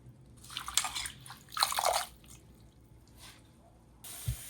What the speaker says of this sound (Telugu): చక్కగా నీళ్ళలో కడుక్కోండి